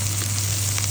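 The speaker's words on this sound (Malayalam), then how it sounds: "വെളുത്തുള്ളി ഏകദേശം ഒന്ന് ചുമക്കാൻ തുടങ്ങി." Garlic frying in hot oil for a Kerala-style fish curry gives a steady, close, continuous sizzle with no pauses.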